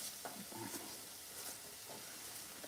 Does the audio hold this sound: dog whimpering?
no